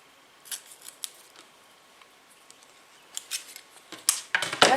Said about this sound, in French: je renforce le tout et je coupe l'excédent